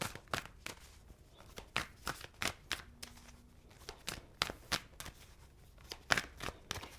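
Tarot cards being shuffled by hand, a rapid series of crisp riffling and slapping bursts, close and fairly quiet, repeating irregularly with short pauses between.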